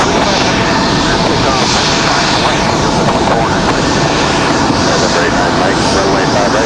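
An Airbus A321neo jet takes off from runway 5 right at Raleigh-Durham International Airport, giving a loud, continuous engine roar that holds steady throughout, with voices faintly present beneath it.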